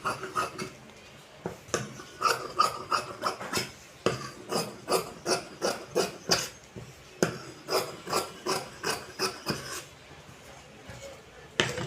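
Scissors cutting a chudidar sleeve out of fabric on a tailoring table, a close, rhythmic run of crisp snips and rasps repeating steadily with short pauses, no talking.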